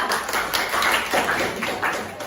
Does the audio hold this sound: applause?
yes